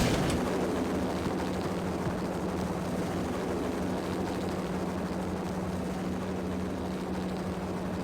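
Helicopter gunship hovering in the Max Payne video game, a steady loud rotor drone with a low hum, continuous and unbroken throughout with no voices.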